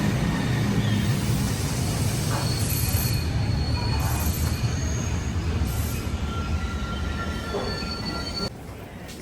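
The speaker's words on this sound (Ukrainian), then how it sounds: "Це вокзал Брюссель Централь." An underground Brussels Central railway and metro station, with a train rumbling loudly and continuously, high wheel squeals and tonal whines riding over it. The noise eases slightly toward the end, and there is no talk.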